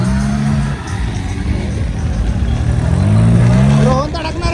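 A car engine hums and rises in pitch as the vehicle pulls away and accelerates on the drive home, loud and close, with a short tonal horn-like note near the end.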